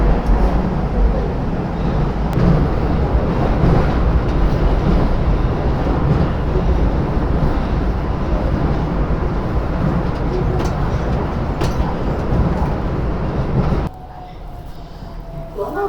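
Beijing subway train riding along with a steady, loud low rumble and rattling of the carriage for about fourteen seconds, then the noise drops sharply as the train slows, leaving a quieter hum with a faint tone.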